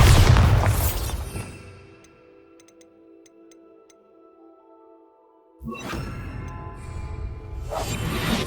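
A booming spell blast in the video game Hogwarts Legacy opens loud and fades away, then quiet ticking and a sustained tone follow before another whooshing rumble surges back in.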